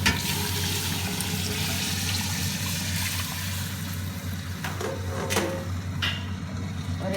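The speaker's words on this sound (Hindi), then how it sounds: "अब हम इसमें ना चावलों के हिसाब से पानी डाल देंगे।" Water is poured into fried chicken in a cooking pot for pulao, a steady close rushing gush mixed with faint sizzling, with no talking.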